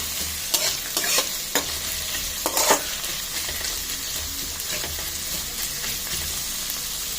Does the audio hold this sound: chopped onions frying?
yes